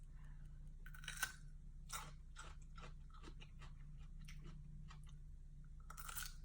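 Someone chews a crunchy exotic fruit with a grassy, wheatgrass-like taste, making a series of close, crisp crunches and bites over a quiet background.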